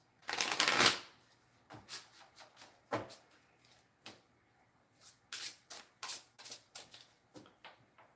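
Tarot cards being shuffled up close: a long riffle burst at the start, then a steady series of short papery slaps and shuffles, with no talking.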